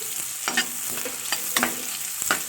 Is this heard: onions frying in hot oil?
yes